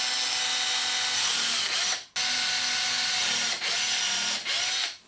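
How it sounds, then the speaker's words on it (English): A power drill bores holes through a plastic milk crate, whining loudly and steadily in long close bursts with short pauses between them and no talking. "Then we're going to drill 3 equally spaced holes through the crate."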